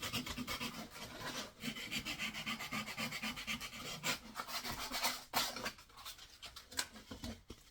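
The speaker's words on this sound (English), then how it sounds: "And then you've got your little file end to go inside. Get those edges sanded down nice and tidy." A hand file sands the edges of a wooden swift nest box, a continuous close rasping scrape in quick back-and-forth strokes that slows and turns more broken toward the end.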